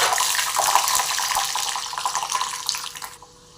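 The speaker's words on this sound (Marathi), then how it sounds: "आता आपलं तेल तापले, आपण शेंगदाणे तळून घेऊ" Peanuts frying in hot oil for kharda poha, a steady, dense hiss of bubbling oil that runs close and continuous, then cuts off abruptly near the end.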